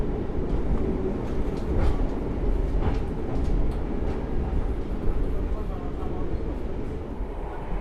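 The Argo Sindoro executive train rolls through Semarang Poncol station with a loud, continuous rumble and faint rhythmic clatter of the carriages, while a voice speaks faintly under the noise.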